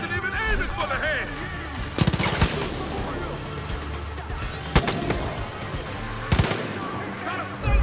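Sniper gunfire in the video game Far Cry 5: three sharp, loud shots crack out at irregular intervals over busy combat ambience, with voices talking in between.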